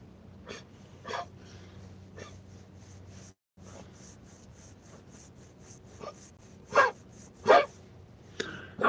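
A heavily pregnant dog breathes and huffs at close range, with short sneezy snorts and a couple of louder sharp bursts near the end over a low steady background hum.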